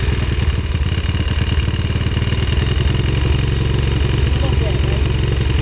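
A motorcycle engine idles steadily and loudly nearby, a continuous throbbing rumble with no breaks.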